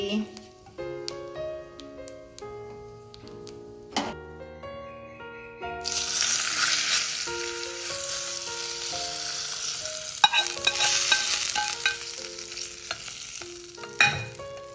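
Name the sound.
tempering frying and being stirred for boondi raita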